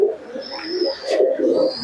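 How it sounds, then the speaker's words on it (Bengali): Giribaj pigeons cooing in a cage, a close, continuous low throaty coo with soft rising and falling tones. "দেশি কবুতর দেখুন কত সুন্দর কোয়ালিটির কবুতর"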